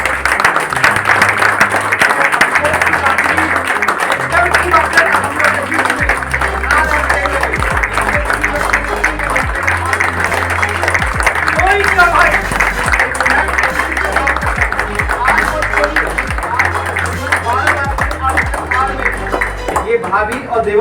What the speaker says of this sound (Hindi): फूल माला अर्पण के साथ में तालियां हिंदुस्तानी बजाइए।